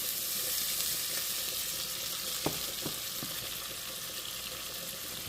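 Onions sizzle steadily in hot oil in a pan, a dense even crackle that stays loud throughout, with a few brief clicks of a utensil.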